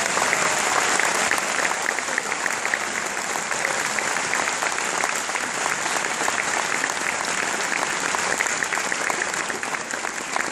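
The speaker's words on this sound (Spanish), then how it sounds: "Con un cariñoso y amoroso aplauso al director en propiedad de la banda" An audience gives a sustained round of applause to welcome a band's director. The dense, even clapping fills the room continuously for about ten seconds without letting up.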